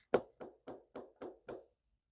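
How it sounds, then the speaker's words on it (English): A knuckle raps six times on a thick, sturdy cardboard tarot box, a loud first knock followed by five evenly spaced, slightly softer dull taps, close and dry with no talk. "Nice knock test."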